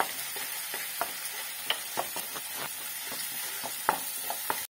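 Onion, tomato and curry leaves being stirred and sautéed in a pan for pepper chicken gravy: a faint, hissing sizzle under a quick series of light spatula taps and scrapes, close and fairly quiet.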